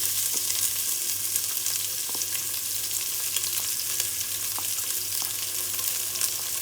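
Onions fry in a pan for achari chana daal gosht, giving a steady, close hiss of sizzling oil with occasional soft clicks of stirring throughout.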